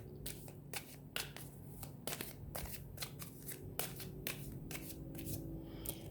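Tarot cards are shuffled close up, a quick irregular run of crisp riffling flicks and soft slaps, fairly quiet with no voices.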